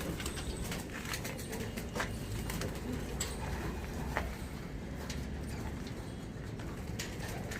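Homing pigeons coo softly in the background against a steady wash of noise, faint and somewhat distant.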